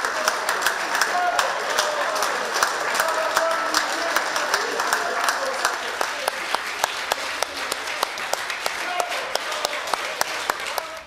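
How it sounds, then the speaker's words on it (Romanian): Deputies in the Romanian Parliament applaud a Romania's Got Talent Golden Buzzer act with steady, sustained clapping, and some later claps ring out sharply in near-unison. "au fost invitați azi la ședința Parlamentului și au fost aplaudați de deputați"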